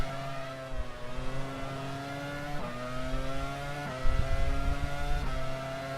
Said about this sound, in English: the engine isn't very powerful